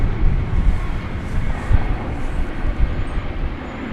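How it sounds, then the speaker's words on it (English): An Alaska Airlines Boeing 737 MAX 9 jet at an airport gives off a moderate, rumbling engine drone with gentle fluctuations, fairly distant and steady, without speech. "Here comes Alaska Airlines. Flight 543. It's a MAX 9."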